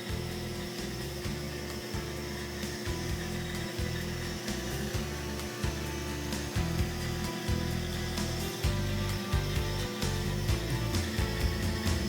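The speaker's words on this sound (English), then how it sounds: "Turn on the bandsaw and slowly feed the jig and the workpiece into the blade." A bandsaw runs steadily while a wooden workpiece in a jig is fed slowly into the blade, a continuous close hum with faint irregular cutting rasps throughout.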